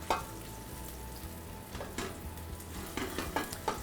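Monkfish medallions sizzle and crackle steadily in a hot pan, with occasional soft scraping taps of a utensil and no voices.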